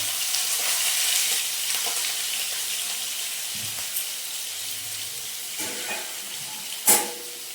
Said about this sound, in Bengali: এবার আলু দুটোকে ভেজে নেবো।